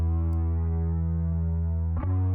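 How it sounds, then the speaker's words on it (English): A sustained, buzzy distorted bass note with rich harmonics holding steady, then a brief shift to a new note near the end. "it's just like all distortion, super grungy distortion"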